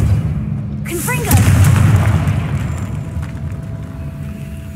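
The Confringo blasting spell in the Hogwarts Legacy video game goes off as a sudden whooshing burst that rolls into a low rumbling explosion and fades over several seconds, loud and close.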